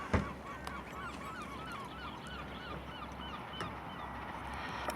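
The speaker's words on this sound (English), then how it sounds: "Canada goose." A flock of Canada geese honks repeatedly at a distance in Scotland, overlapping calls over a steady wash of wind or water noise.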